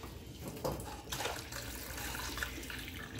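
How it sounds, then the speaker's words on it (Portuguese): Hot water is poured from a container into a cooking pot in a home kitchen, a soft steady splashing and trickling stream with small bursts, heard quietly and alone. "Nós vamos colocar água quente."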